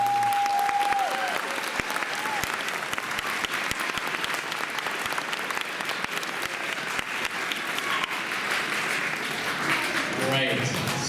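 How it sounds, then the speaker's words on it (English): Sustained applause from an audience at an elementary school spring evening band concert, a dense, steady clapping that carries on for about eleven seconds before thinning near the end, with a voice briefly audible. "So I would just ask you to give a round of applause to Mrs. Firchow."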